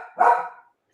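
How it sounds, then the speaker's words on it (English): A dog gives a single sharp bark, close and loud, that dies away into silence. "Is that your dog?"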